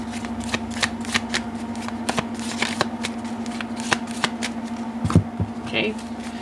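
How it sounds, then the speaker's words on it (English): Tarot cards being shuffled close by, with a rapid series of sharp riffling snaps and soft handling between them. "let's do one more shuffle here for Trump's action"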